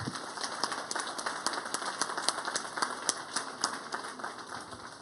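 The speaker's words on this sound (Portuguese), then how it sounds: "eu gostaria de que nós todos dessemos uma salva de palmas a ele" A conference audience at an event on waste strategies for sustainable cities claps for a speaker: distinct individual claps in a quick, fairly even patter, moderately distant and soft, with no talk.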